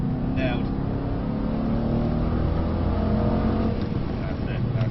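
Mercedes C63 S engine on a track as it brakes into a corner, a steady loud drone under an instructor's continuous talk.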